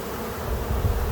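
Honeybees crowd a hive frame loaded with nurse bees and young brood, giving a close, dense buzzing hum that swells louder toward the end, with no voices.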